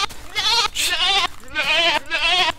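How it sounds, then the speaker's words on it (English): A billy goat in a video game bleats four times in a row, each call a loud, wavering, nasal cry with short gaps between them. "we got a fucking Billy Goat to deal with now"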